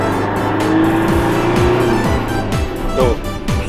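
A modified Toyota Hiace van revving loudly during a test ride, with the engine note climbing and dropping repeatedly in a close, rough, steady roar.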